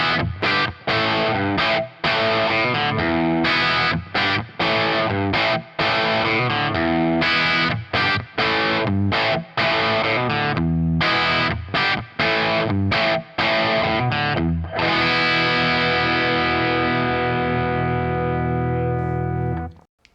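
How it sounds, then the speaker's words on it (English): Electric guitar played through a Two Notes Torpedo speaker simulation with a 4x12 cabinet impulse response loaded with Celestion Vintage 30s: loud, distorted riffing with choppy stops and chugs, then a long ringing sustained chord that fades out. "load the impulse response of a 4x12 cabinet loaded with Celestion Vintage 30s"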